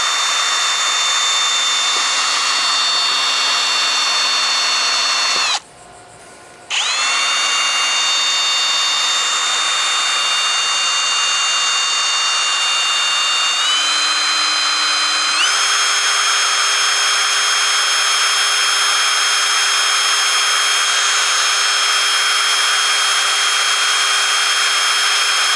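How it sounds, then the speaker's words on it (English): A power drill drills sideways into a DIY power-pole kayak anchor mount with a steady, close, high-pitched whine. It cuts out briefly, restarts, and steps up in pitch twice later on. "Hard to drill through sometimes."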